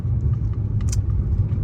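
A Hyundai Genesis with an upgraded exhaust drones at a low, steady pitch from inside the cabin, a constant rumble with faint rattles above it and no talk.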